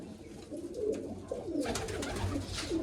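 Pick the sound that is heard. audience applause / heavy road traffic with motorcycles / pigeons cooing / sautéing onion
pigeons cooing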